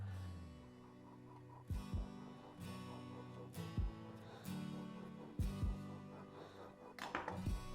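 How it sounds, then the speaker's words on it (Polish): A knife taps and cuts against a board in a few sharp, separated strokes, with quieter slicing in between as it scores the skins of raspberry tomatoes; close and fairly soft. "Na pomidorach robię nacięcia, takie delikatne."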